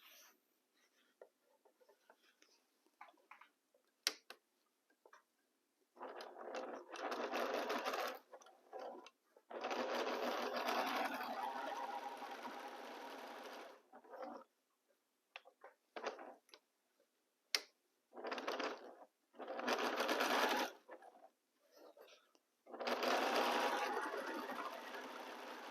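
A sewing machine stitches a 1/4 inch seam through pinned quilt fabric, whirring in several steady bursts of a few seconds each, separated by quiet pauses filled with small ticks and clicks as the fabric is handled.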